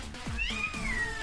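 A newborn kitten cries with a few thin, high, rising and falling meows, close and clear against quiet room noise.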